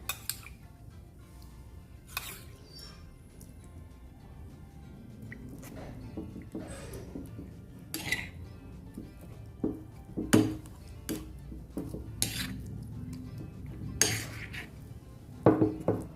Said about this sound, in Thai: นำกะปิที่เราย่างไว้นะคะ มาละลายกับน้ำอุ่นเตรียมไว้ค่ะ